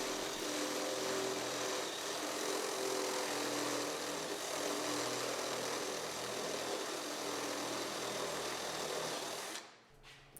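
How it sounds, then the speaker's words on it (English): A step drill bit bores holes through an engine cover for an S550 Mustang GT, a steady loud whine with a slight varying pitch that runs almost continuously, then cuts off abruptly near the end. "we're just going to go ahead and drill these out."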